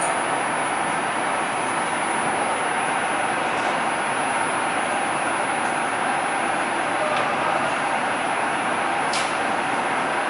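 A train on the Brussels to Kortrijk line stands at a station. A steady, loud rail rumble and hiss carries on throughout, with a few faint clicks on top.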